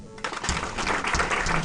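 Parents applaud students at a school welcome ceremony in Rwanda, a dense, steady patter of many hands that swells in after a quiet start and carries on to the end.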